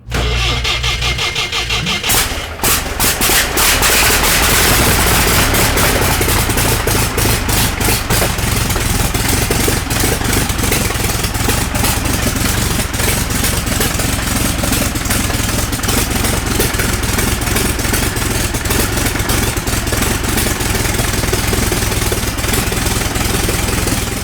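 A 10-litre 1913 Theophile Schneider aero special engine fires up after a brief cough, then runs loud and close with a dense, uneven rumble that stays steady to the end.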